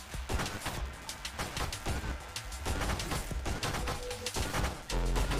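A homing railgun blasting in the space shooter Nova Drift, dense rapid bursts of sharp cracking shots layered over a rumbling low end, loud and continuous without pause or speech.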